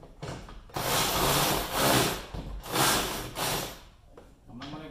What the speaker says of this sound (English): I'm gonna get my drill. I'm gonna start on the bottom.